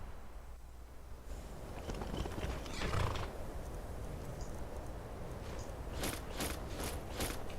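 A horse is ridden in Skyrim, its hooves giving a steady muffled clatter over a constant ambient wash, with a brief whinny and a few sharp mechanical clicks toward the end.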